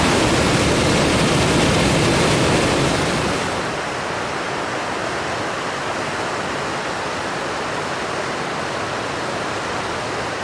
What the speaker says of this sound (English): they do continue to cascade down this river area as it bends to the right